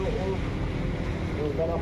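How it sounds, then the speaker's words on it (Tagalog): Strong, steady typhoon wind roaring and buffeting the microphone, a dense rushing noise throughout with faint voices underneath. "Grabe yung hampas ng mga hangin dito"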